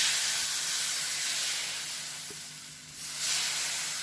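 Rice flour dosa batter hissing on a hot pan, a loud, continuous close-up sizzle that dips briefly and then swells again, with no voices over it.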